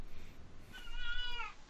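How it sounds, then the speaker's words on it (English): A cat meowing during a Golf With Your Friends game, one drawn-out, wavering meow rising and falling over low background rumble, fairly close and clear. "Shut up, cat."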